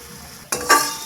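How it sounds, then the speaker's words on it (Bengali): Cumin, coriander, ginger and garlic paste sautéing in a pan for prawn malai curry: a sudden loud sizzle bursts in and then swells as the paste is stirred, close and hissing, with no voices. "জিরে ধনে আদা আর রসুনের পেস্টটা ভালো করে কষিয়ে নেব"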